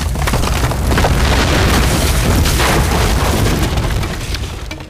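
A long, rumbling crash of a barracks collapsing in the game Rome Total War: Barbarian Invasion, with deep booms and crumbling debris, loud and continuous before tapering off.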